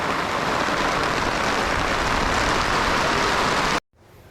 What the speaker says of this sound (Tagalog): bumu bumuhos na po yung ulan